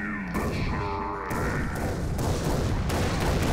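A shotgun fires in the shooter game Blood Dragon, a few loud, booming blasts in quick succession with heavy rumbling tails.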